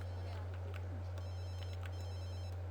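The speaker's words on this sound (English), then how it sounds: "I'm not going to answer my phone." Phone ringing in The Sims 3, a thin electronic ringtone of repeated short trills over a constant low hum, faint and without voices.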